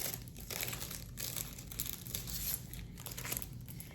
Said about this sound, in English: Let me get my stickers out.